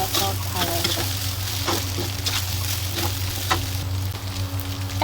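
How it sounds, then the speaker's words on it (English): Glutinous rice stir-fried with black soy sauce gives a constant close sizzle, marked by regular spatula scrapes and stirs against the pan. "Fry until the rice is evenly coated with the black soya sauce color."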